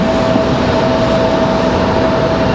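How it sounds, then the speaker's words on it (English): American Airlines Boeing 737 sitting at the end of the runway at Raleigh-Durham International, its jet engines giving a loud, steady, continuous roar with a faint tonal whine and no talking. "got an American 737 sitting out at the end of the runway, ready to head back to Dallas"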